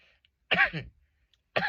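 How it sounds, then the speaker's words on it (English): Two harsh coughs ring out close by, separated by about a second of near silence. "Not me coughing"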